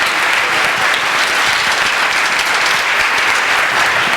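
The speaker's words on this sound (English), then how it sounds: "Yes, you can give them another round of applause." A concert audience gives a marching band and its drum line sustained, dense applause that stays loud and steady throughout.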